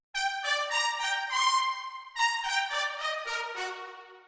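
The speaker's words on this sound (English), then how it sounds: "we play them staccato." Six trumpets in an orchestral voicing play a short staccato passage, a run of crisp, punchy brassy notes in quick succession, loud and close with no voices.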